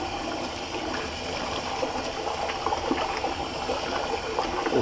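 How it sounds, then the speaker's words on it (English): Hot water runs and splashes as soap is rinsed out of a shaving bowl, a continuous close gush that holds steady for several seconds with no talking. "And I still got some soap in the bowl, which I'll rinse out."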